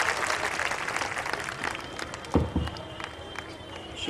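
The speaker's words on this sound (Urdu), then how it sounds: "زوردار تالیوں سے استقبال کریں۔" An audience at a speech event on education, health and cleanliness claps in a dense, uneven patter, with a few louder slaps near the middle and voices mixed in underneath.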